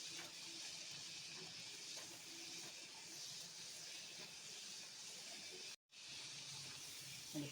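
Potato fries crackle and hiss steadily in hot oil during their second fry, a dense, close sizzle that runs throughout and breaks off in a brief silent gap near the end.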